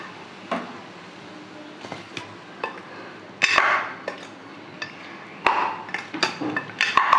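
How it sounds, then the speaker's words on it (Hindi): A spoon scraping and clinking against a bowl while mutton is mixed with spices, ginger-garlic paste and marinade, giving irregular sharp taps and scrapes with quiet gaps between them. "अच्छी तरह मिक्स करके रख देंगे।"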